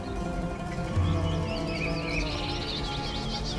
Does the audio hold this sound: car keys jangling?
no